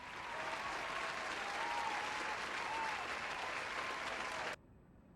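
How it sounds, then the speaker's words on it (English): A round of applause from a crowd, sustained and even for about four and a half seconds before cutting off abruptly to near silence. "Can we get a round of applause for Faint Buddy?"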